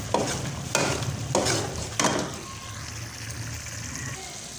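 Chana dal halwa stirred and cooked in a pan, a spoon scraping through it in several broad strokes over a low steady sizzle, close and moderately loud, then settling to a quieter simmering hiss.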